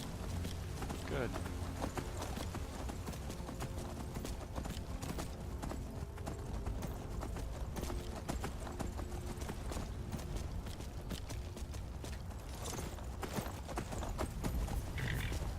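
Horse hooves clip-clop steadily in the video game Skyrim, a continuous rhythmic trotting under game voices and ambient sound.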